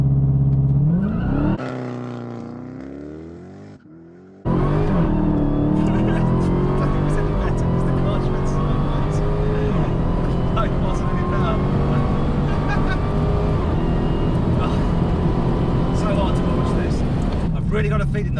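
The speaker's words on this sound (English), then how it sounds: "I'm going to release that paddle and feed in the power" A Dodge Challenger Demon muscle car revs, then launches at full power with a loud sustained engine roar that climbs through gears, heard close up with someone talking over it.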